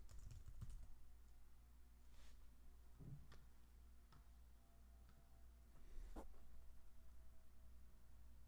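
Computer keyboard typing in a quiet room, faint scattered key clicks and taps over a low steady hum.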